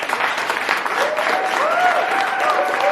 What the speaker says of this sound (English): let's give everyone a huge round of applause for all our amazing 11